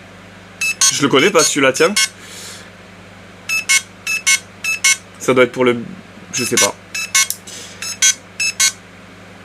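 Electronic beeps from the trigger unit of a G&P M4 airsoft rifle, short high chirps in quick groups and pairs spread across the clip, with someone talking over some of them.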